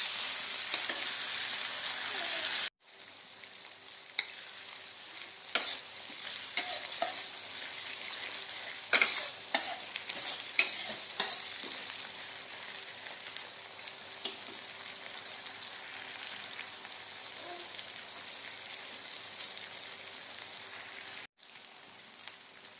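Green chilies sautéing in a pan for Padang-style sambal, a steady crackling sizzle with frequent scraping stirs of a spatula, close and continuous, no talking.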